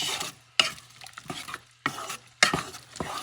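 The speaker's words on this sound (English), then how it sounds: "Saute this baby." Seasoned black-eyed peas being sautéed in a hot pan, heard as a few separate close bursts of stirring and scraping over a soft sizzle, with no voices.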